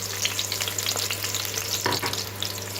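Garlic and capsicum sauté over medium heat in a home kitchen, a loud, close, continuous frying sizzle with crackling texture, a steady low hum beneath it and a brief stir-like scrape near the end; no talk.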